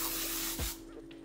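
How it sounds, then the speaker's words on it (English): A fragrant pumpkin-spice glaze spray is released in a continuous close hiss lasting over half a second, then stops, leaving a quieter fading spray and room noise. "This glaze spray is called Pumpkin Spice Things Up, and this is a limited edition"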